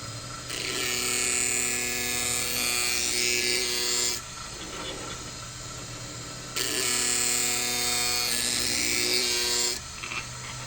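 An Edger skate sharpener's grinding wheel being dressed, a loud steady high-pitched grinding whine with harmonic hum, running in two long passes separated by a quieter motor-only interval.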